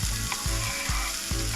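Chopped red pepper and scallions sizzle in a hot pan, a steady loud frying hiss with low thumps of stirring recurring about every half second throughout.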